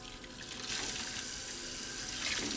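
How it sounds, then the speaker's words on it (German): A tap in the video game Vertigo is turned on, and water gushes in a steady, hissing stream that stays loud after a brief quieter start. "Ja, ja, ja, Wasserhahn. Bitte sag mir, da kommt Wasser raus."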